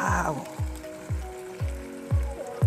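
Beef mechado with thick tomato sauce sizzles in a pan while it is stirred, the stirring giving rhythmic thick plops and scrapes about every half second over a steady bubbling fry, close and clear.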